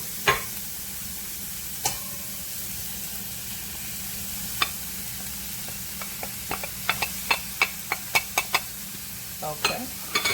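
Carrots and cabbage sizzling in a pan under a steady low frying hiss, with a series of sharp scraping clicks from stirring that come close together toward the end.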